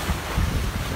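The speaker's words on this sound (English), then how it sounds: "Close to 15 knots of wind, maybe." Strong wind buffets the microphone while waves wash past a Corsair 24 trimaran under sail, a brief, loud, continuous roar of rushing air and water.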